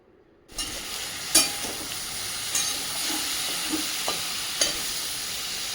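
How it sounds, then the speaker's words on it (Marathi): Stuffed okra masala mixture drops into a hot wok and bursts into a steady close sizzle, with a few stirring scrapes and clinks over the continuous frying hiss. "आता आपण डायरेक्ट हे मिश्रण कढाईमध्ये टाकून घेऊया"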